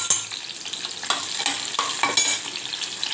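Spices, onion and tomato sizzling in leftover oil in a pan, with steady frying crackle and repeated scraping stirs of a utensil, close and moderately loud throughout.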